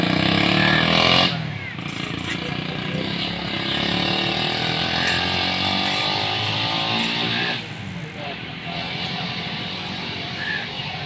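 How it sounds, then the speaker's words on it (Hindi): A motorcycle engine runs steadily and loud close by for the whole stretch, with a busy mechanical rattle, a brief surge near the start, and voices mixed in underneath. "ये जी मोटरसाइकिल का दौर है"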